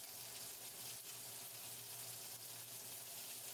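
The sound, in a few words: fish searing in beef tallow in a pan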